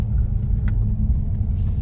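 Busy December street traffic outside a mall produces a steady low rumble of cars, loud and continuous, with a faint higher click partway through.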